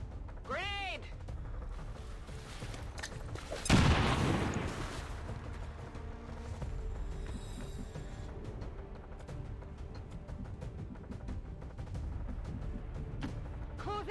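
A grenade blast in XCOM 2 erupts as one loud, close burst about a third of the way in, standing out above steady game ambience and brief synthetic chirps; no distinct gunfire rattle stands out.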